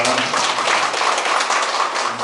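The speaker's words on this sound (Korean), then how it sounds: "큰 박수 부탁드리겠습니다" Audience applause at a town meeting with local officials in Jeonui-myeon, a dense steady wash of many hands clapping close by and sustained for the whole stretch, with a faint low hum underneath.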